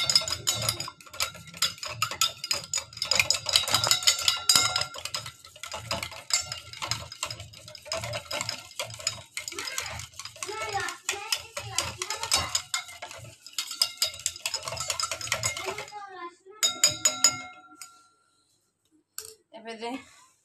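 Two eggs with a pinch of salt whisked in a bowl, a quick run of clinking, tapping strokes against the bowl that goes on for most of the time and stops near the end, with speech over it.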